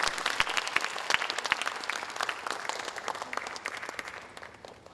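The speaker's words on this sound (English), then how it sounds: "Let's give one last round of applause for our artists and goodies." An audience claps in a final round of applause for the artists after a Bharatanatyam classical Indian solo dance debut, a steady, dense patter of many hands that slowly thins and softens over five seconds.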